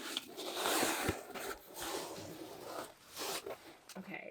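A mystery item box being opened up close, with rustling, scraping and a zipper-like rasp of packaging in short bursts, plus a few brief handling knocks.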